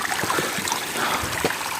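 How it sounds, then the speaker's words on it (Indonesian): A small mountain stream on Mount Sumbing flows steadily in the pre-dawn dark, a continuous broadband rush and trickle with faint splashy pulses, heard nearby and alone. "melewati aliran sungai sedikit kecil."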